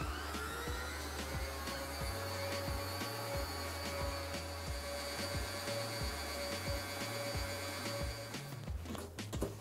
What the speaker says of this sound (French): on peut y ajouter notre œuf. Et on remélange à nouveau.